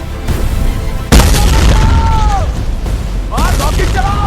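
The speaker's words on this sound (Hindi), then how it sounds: "बचो इनसे, रॉकेट दागो उन पर।" Rockets launch and explode in a cartoon war between ants: a sudden heavy boom followed by sustained rumbling blasts, with animated voices calling out over the din.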